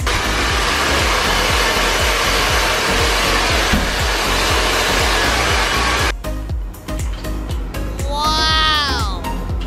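A hair dryer blows steadily and loudly while hair is blow-dried for a Brazilian keratin blowout, running alone for about six seconds before cutting off, after which a person speaks with an animated, rising voice.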